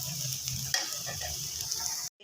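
Bitter gourd (karela) slices fry in a pan with a steady close sizzle and a brief clink of stirring, then the sound cuts off abruptly; no talking.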